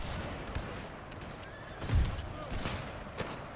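Cannon and musket fire rumbles through a Pike and Shot battle between Ottoman and Polish armies, with scattered muffled blasts and crackling volleys over a dense, noisy din.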